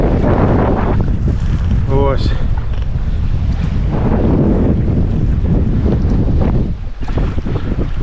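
Strong wind roars steadily and buffets the microphone on the Dniester River bank while fishing, with a brief voice speaking over the gusty rumble.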